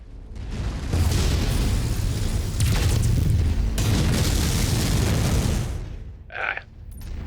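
Missile explosions from mechs in MechWarrior 5 boom heavily and continuously for several seconds, loud and close, then fade to a short electronic beep near the end.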